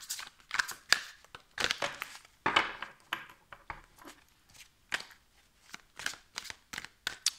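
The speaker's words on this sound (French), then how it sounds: "Je vais remélanger parce que la carte elle est tombée un peu vite." Tarot cards being reshuffled by hand, with repeated close crisp riffles and flicks of card stock in irregular bursts, fairly quiet, no talking.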